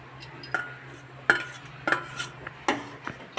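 Ladle scraping and knocking against a pot while milk rice pudding (payesh) is stirred on a gas flame, a handful of sharp metallic clinks spaced across a low steady hum, close and fairly quiet.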